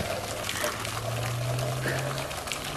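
Water pours steadily from a hose with a continuous splashing hiss, fairly soft and unbroken, with no talking.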